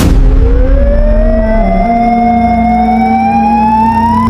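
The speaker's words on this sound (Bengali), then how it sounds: "হঠাৎ অ্যাম্বুলেন্সের সেই শব্দ" An ambulance siren wails loud and close as a rising tone that sweeps steadily upward over a heavy low engine rumble, used as a sound effect in a horror story.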